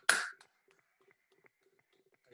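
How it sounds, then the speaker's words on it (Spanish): One loud, sharp hand clap at a quiet group gathering, followed by near silence with only faint soft sounds and a second clap starting at the very end. "Y aplaudimos con toda la mano."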